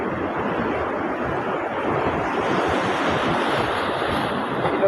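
Ocean waves crashing on the shore at Mapid, Lagonoy, Camarines Sur, a loud continuous roaring surf with wind buffeting the microphone, steady throughout.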